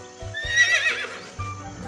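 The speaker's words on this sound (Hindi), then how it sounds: "घोड़ा तो हिन हिन करता है" A horse whinnies in a loud rising-and-falling neigh over faint hoof clip-clops, heard up close in a children's cartoon about animal sounds.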